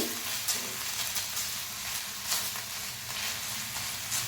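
Ginger garlic paste sizzling with cumin in a pan for tawa egg masala, a constant hissing fry with faint stirring scrapes.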